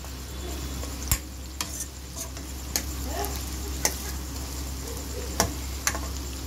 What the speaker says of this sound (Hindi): ये जो अदरक लहसुन है ये थोड़ा सा भून जाए